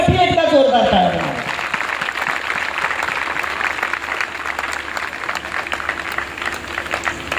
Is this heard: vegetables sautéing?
no